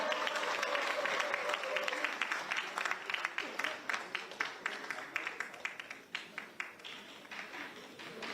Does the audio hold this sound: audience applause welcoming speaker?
yes